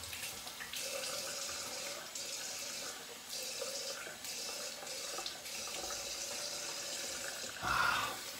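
A bathroom sink tap runs steadily while someone rinses after shaving, with splashing and shifting water flow and hands moving under the stream, heard close up before a brief louder burst near the end.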